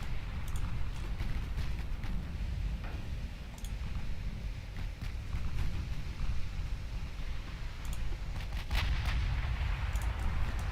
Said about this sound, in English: Whoa, that's close-range torpedo fire.